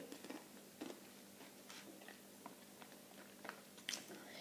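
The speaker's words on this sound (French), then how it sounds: "Mais attendez, ça croustille." Crunchy, spicy Candysan candy chewed close to the mic, with soft irregular crunches and bites scattered over a quiet background and no talking.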